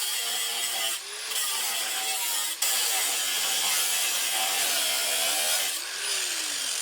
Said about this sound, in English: we're going to go in and get a cut at it here with the angle grinder